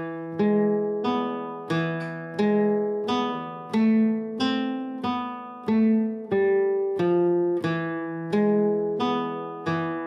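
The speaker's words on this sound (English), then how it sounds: "So we can play the same melody but in the higher octave" A solo flamenco guitar plays a melody in a higher octave, thumb-plucked notes ringing clearly and decaying in an unhurried, even rhythm.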